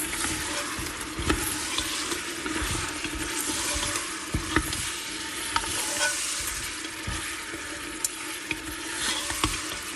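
A utensil scrapes and stirs Afghani garam masala in a sizzling pan, with scattered clinks and taps over a steady frying hiss, close and moderately loud.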